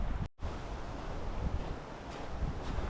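Strong wind blows outdoors beside a high-altitude backcountry trout stream, a loud steady roar with gusty buffeting on the microphone and a brief dropout near the start, and no one speaking.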